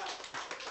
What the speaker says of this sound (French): Et applaudissements pour Arnaud.